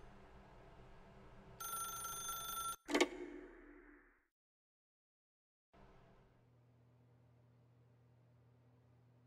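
A telephone in The Stanley Parable: Ultra Deluxe gives a sharp ring burst lasting about a second, followed by a loud click and clatter, then near silence and quiet room tone.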